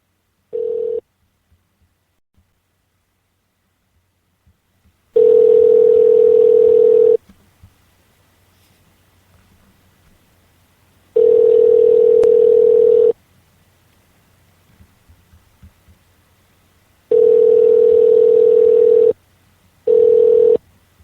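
Telephone call signal on a phone line placing a call to a number: repeated steady tone bursts of about two seconds each, separated by silences of several seconds, clear and close with no voices.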